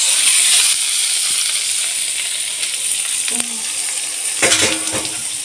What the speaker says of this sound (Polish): Już zaczęłam gotować cebulę, czosnek, imbir i chili.